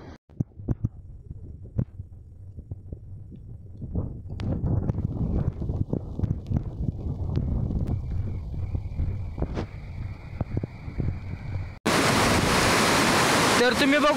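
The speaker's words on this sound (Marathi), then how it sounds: "तर तुम्ही बघू शकता हा पाण्याचा विसर्ग होत आहे" Water gushes steadily from a leaking percolation tank at the Bengrutwadi dam near Khandala after heavy rainfall. A constant rushing roar builds and then turns abruptly louder and fuller for the final seconds.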